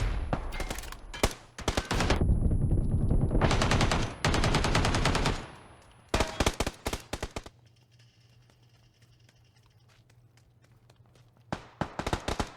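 Gunfire rattles in a video game shooter as loud automatic bursts and rapid single shots come in clusters, then give way to a quieter stretch with low background hum before firing starts again.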